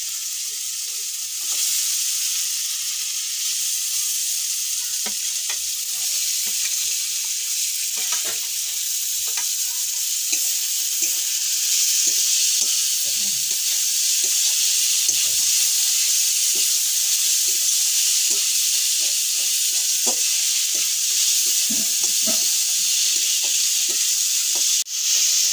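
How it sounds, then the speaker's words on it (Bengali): Fried potatoes and turmeric crackle in a pan with a loud, dense, hissing sizzle that holds steady the whole time, close up and unbroken, with only faint tiny pops beneath it and no speech. "হলুদ দিয়ে দেবো ভেজে রাখা আলু"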